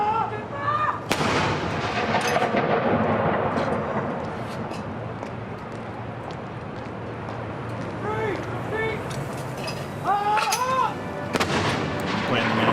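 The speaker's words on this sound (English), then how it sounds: "there's no recoil on the guns like there would be if they were firing actual artillery rounds" A ceremonial gun salute with blank charges booms out in loud, widely spaced single shots, each leaving a long rumbling echo, while a crowd murmurs and a voice talks faintly underneath.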